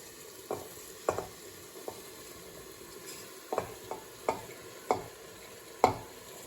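Rice going into a pressure cooker for biryani, stirred over low heat: scattered scraping clinks of a spoon against the metal pot, about a dozen irregular strikes over a soft sizzling background, with no voices.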